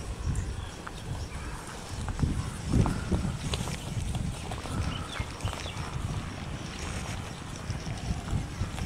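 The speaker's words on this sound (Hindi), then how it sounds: "ये जनाब अब भैंस की आपको चाल दिखाते हैं।" Hooves of a red buffalo, shown for sale on a farm, thud in an uneven walking rhythm close by, with wind noise over the microphone.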